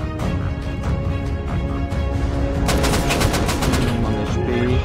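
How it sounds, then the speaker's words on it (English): Sustained automatic AK rifle fire in the survival game Rust during a fight at an oil rig, dense rapid bursts running continuously throughout and intensifying toward the end, loud and close. "Yeah, these are the guys. These are the AK guys."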